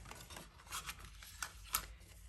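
Close, quiet snips and rasps of scissors cutting a paper card piece out for a folding card, a few short cuts in a brief burst.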